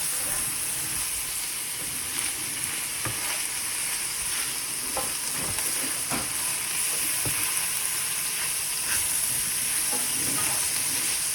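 Onions, peppers and shaved Philly steak sizzle in a pan while being stirred, a continuous moderate frying hiss broken by scattered scraping taps of the utensil, with no talking.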